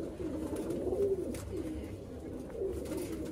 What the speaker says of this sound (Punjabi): ਵੱਡੀਆਂ ਕਬੂਤਰੀਆਂ ਅਤੇ ਵੱਡੇ ਕਬੂਤਰ, ਉਹਨਾਂ ਦੇ ਬੱਚੇ